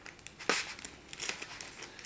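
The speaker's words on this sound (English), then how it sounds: "just rip this paper off! I mean, plastic off." Plastic packaging ripped and crinkled off a lamp box by hand, a few sharp tearing bursts with a louder rip near the middle, close and fairly faint, no talking.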